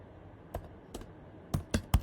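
A few separate keystrokes on a computer keyboard while a Linux command is typed for a Node.js server, close and sharp with uneven gaps, no talking.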